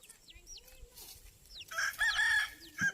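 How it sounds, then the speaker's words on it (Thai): Jungle fowl rooster crowing in the open, a couple of loud crows near the end over faint background bird calls and rustling. "แนวไก่ป่านะ"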